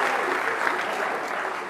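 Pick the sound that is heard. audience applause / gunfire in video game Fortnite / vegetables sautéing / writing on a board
audience applause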